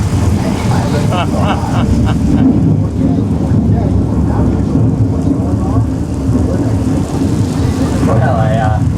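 Simulated rain and thunder effects on the Universal Studios Hollywood studio tour: loud, continuous rain wash with deep thunder rumbles, heard from a tram, with people's voices faintly mixed under the downpour.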